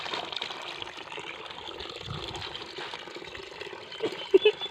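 Water runs steadily with a soft trickling hiss, with a few brighter splashes near the end and faint voices in the background.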